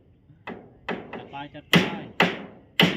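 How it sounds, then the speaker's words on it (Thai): Nails hammered into wood during construction of a kitchen roof: several sharp, close blows ring out in an irregular rhythm, getting louder toward the end, with people talking in between. "ข่อยตอกไม้นี่"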